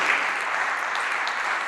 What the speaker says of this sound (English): Please have a round of applause for the visionaries